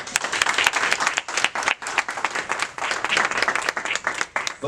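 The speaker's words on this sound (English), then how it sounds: "Let's give her a round of applause." A celebration crowd at an Immigrant Heritage Month event in Dauphin County, Pennsylvania, breaks into lively applause, with clustered individual claps pulsing through a continuous burst of clapping.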